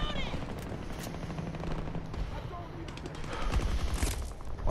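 Video game gunfire with rapid machine-gun bursts and shots during a wingsuit match, dense and continuous over a noisy game mix, with a louder burst near the end.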